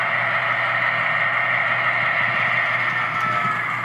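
A simulated diesel locomotive engine idles in a model train control system, a steady low droning hum with an even, continuous tone.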